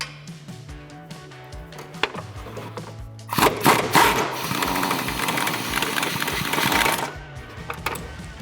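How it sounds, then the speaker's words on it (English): A half-inch impact gun with a 16 mm socket removes the upper shock bolts on a Dodge Challenger during a coil-over install, giving a loud rattling hammer burst of about four seconds after a few light clanks of tools. "So now I'm gonna take my 16 millimeter on my 1/2-inch impact gun."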